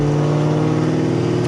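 A cammed Ford Mustang Cobra Terminator rumbles loud and close in heavy Christmas traffic, its exhaust giving a deep, steady burble with strong low harmonics, echoing off nearby buildings.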